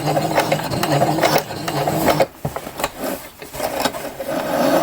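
Sewing machine running a double stitch along a stress point on a welder's cap, a steady close mechanical whir that pauses briefly midway, then resumes.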